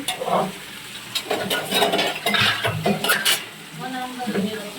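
A housing society's shared metal pots and dishes clatter and scrape close up with splashing water during Holi cleaning, while people talk in the background.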